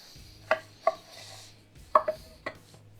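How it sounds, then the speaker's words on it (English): A knife cutting a thick slice of Iberico pork belly, a handful of crisp, separate thunks against a cutting board, close and fairly quiet, with no talking. "Now I want to get a slice off this and give it a shot"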